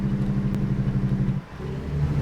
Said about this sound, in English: Just going to shift this down through the gears manually.